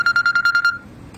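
A phone rings with an incoming call, about seven evenly spaced electronic beeps in a quick pulsing pattern, close and clear, then it stops and the room goes quiet.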